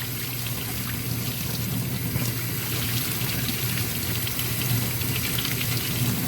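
Water rinsing a vapor-blasted XJ650 Turbo carburetor, a steady loud rushing pour with no pauses, close by and alone.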